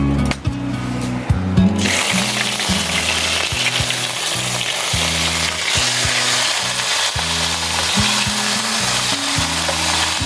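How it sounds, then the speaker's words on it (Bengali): Onion paste hits hot oil with whole spices (cardamom, cinnamon, cloves, cumin and bay leaf) and sizzles loudly and continuously at close range, with a burst as it goes in and rhythmic stirring over the frying. "এবার পেঁয়াজ বাটাটা দেব।"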